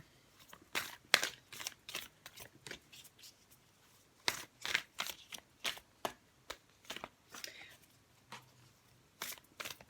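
Oracle cards are shuffled by hand in quick, papery bursts of riffling and slapping, separated by short pauses, fairly close and quiet, with no talking.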